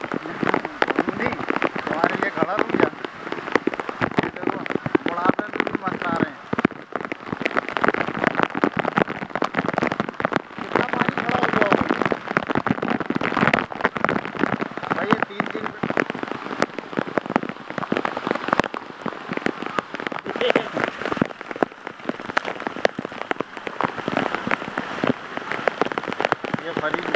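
Steady heavy rain pours onto surfaces outdoors for the whole stretch, a dense continuous hiss with scattered sharper drop hits, while voices talk faintly underneath.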